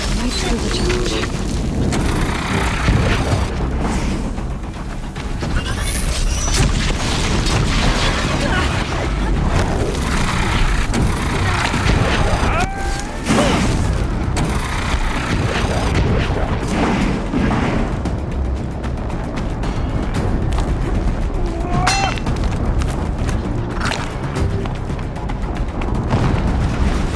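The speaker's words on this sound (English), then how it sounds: "An explosion." A prolonged barrage of explosions in the video game Horizon Zero Dawn, with loud, dense booms and rumbling blasts rolling on continuously, broken by occasional sharper bursts.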